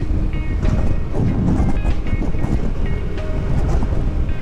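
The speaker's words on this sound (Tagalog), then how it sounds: "Napakalakas ng hangin ngayon dito guys." Steady, loud wind roaring across the microphone outdoors near the Panguil Bay bridge, with a constant low rumble and no one speaking.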